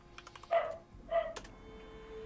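A dog gives two short barks about half a second apart, fairly close and moderately loud, over a quiet room background with no talking.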